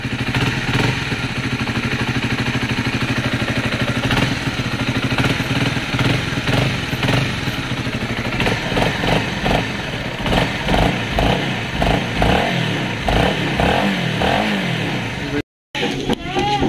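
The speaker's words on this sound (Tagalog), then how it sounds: "Ayan, tunog ngayon ng motor ko." A motorcycle engine, just repaired for heavy vibration, runs close by with a steady idle. It blips into repeated revs and rising surges, then settles back, with no voices over the engine noise.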